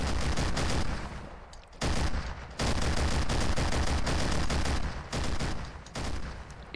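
A turret built in Garry's Mod fires in loud, dense bursts of gunfire, several sustained volleys separated by brief pauses, close and without voices.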